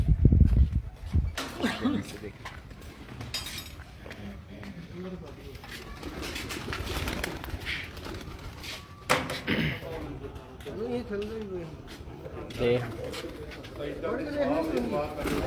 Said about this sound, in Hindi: खुर्रम आपके जो कबूतर उड़ते रहे वो